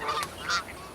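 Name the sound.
Canada goose honking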